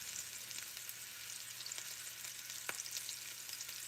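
Meatballs fry in a pan, giving a steady bright sizzle with small crackles and one sharp pop partway through, heard close and alone.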